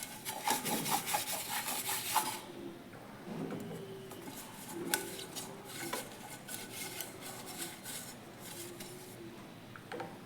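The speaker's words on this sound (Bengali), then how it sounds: "ভালো করে তেলটা ব্রাশ করে নিতে হবে সাইডগুলো দিয়ে" A brush rubs oil around the sides of a cake tin, giving close, soft scraping strokes in irregular bursts with a few light taps, heard alone.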